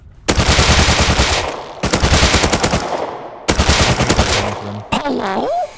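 Rapid bursts of SAR rifle fire in the survival game Rust come in three long, loud strings of close shots separated by brief pauses, followed by a shorter burst.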